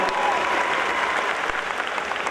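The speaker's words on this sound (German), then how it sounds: "großen Applaus hier nochmal für Pierre und seine Augen" An audience at an event claps in a dense, steady burst of applause, with a crowd murmuring underneath.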